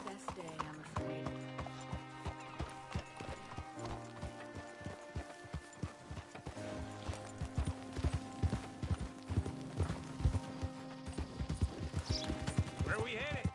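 Horse hooves clip-clop in steady rhythm as riders travel together in Red Dead Redemption 2, a Western video game, running under near-continuous conversation between the riders.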